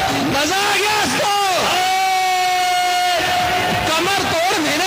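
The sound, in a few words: crowd applauding and cheering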